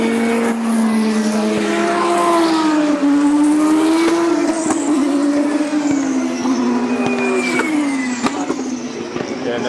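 Formula 1 cars run down the straight at Monza, a loud continuous engine whine with shifting pitch as cars pass, heard from trackside among crowd noise.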